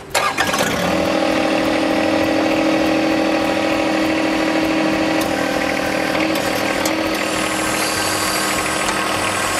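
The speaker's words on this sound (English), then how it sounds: "Okay, now I'm going to start the tractor." A John Deere 1025R compact tractor engine cranks and catches, then settles into a loud, steady idle that continues for several seconds close by.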